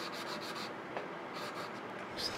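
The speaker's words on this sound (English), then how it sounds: "we will be using a sanding stick or a wet dry sandpaper" Close, steady rubbing and scraping of 600-grit wet/dry sandpaper over selenite crystal in quick, repeated strokes.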